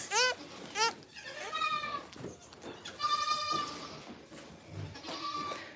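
Dairy goats bleat repeatedly on a farm during morning chores, several wavering calls close by and overlapping one another, with quieter background noise between them.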